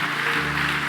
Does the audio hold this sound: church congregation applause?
yes